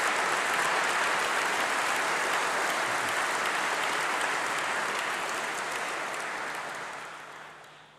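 Sustained applause from a graduation ceremony audience in a great hall, a dense even wash of clapping that holds steady and then fades out toward the end.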